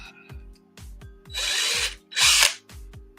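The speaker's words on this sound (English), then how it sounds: "Just drill the dang hole, you drill." A power drill boring a hole through a Christmas ornament: several short motor whirs come in a stuttering rhythm, then two longer, louder bursts of drilling with a harsh grinding bite, close by and with no talk over it.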